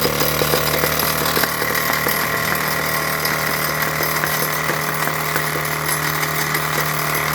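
A Wilesco D405 model steam engine, an early-1980s example, runs steadily at speed, giving a continuous, even mechanical whir and chatter close by with no pauses or voices.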